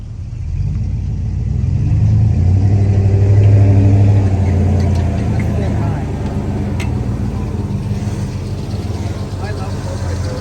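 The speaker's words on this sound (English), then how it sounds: "So I'm going to try your muffler for you." A 4x4 fitted with a new muffler idles and revs, its low, steady rumble swelling into a louder burst of revving in the first half before settling back to a constant drone.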